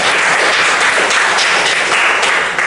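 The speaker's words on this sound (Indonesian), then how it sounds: "Boleh beri tepuk tangan?" Students in a classroom applaud a classmate's history retelling, loud close clapping that runs unbroken throughout.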